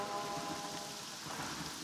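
Steady rain falls on a dry rural place with a dirt track, a broadband hiss of drops that stays even and fairly quiet for the whole stretch, with no voices.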